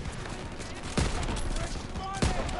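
Gunfire in a Call of Duty WW2 battle, with a dense, steady crackle of shots throughout and two louder bursts standing out, while voices shout underneath.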